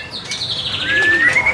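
A caged songbird chirps at Pasar Pramuka bird market in Jakarta, a poksay offered for sale, singing bright rising whistles and tweets close by, loud and continuous without any talk.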